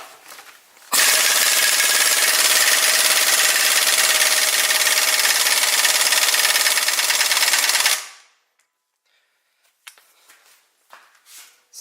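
An impact gun hammers on a 19mm socket against a Honda crankshaft pulley bolt, one loud continuous rattling burst of about seven seconds that stops abruptly, then faint handling clicks.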